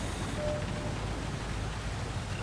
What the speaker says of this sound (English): it just seems to be hailing a bit